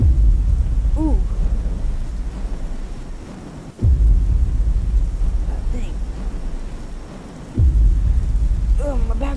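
Thunder and heavy rain in the Slender: Mansion video game play as a steady storm wash, with loud low booming thunder cracks around four and eight seconds. Someone talks over the storm in a voice that rises and falls in pitch.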